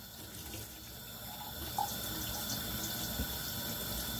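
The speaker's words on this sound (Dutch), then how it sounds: "een beetje water erbij, niet heel veel" Tap water runs steadily into a pan of macaroni, an even, continuous rush at a close, moderate level with a couple of small splashes and no talking.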